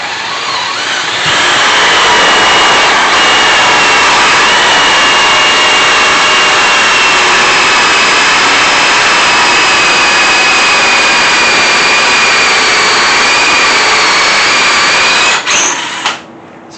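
Power drill boring through scrap wood for a homemade hose reel, a loud steady whine running almost continuously close to the mic for about fourteen seconds before cutting off abruptly near the end.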